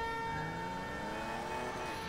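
An ambulance siren wails steadily in the GTA V Online video game, a sustained tonal wail that runs unbroken and fairly faint for the whole stretch with no talk over it.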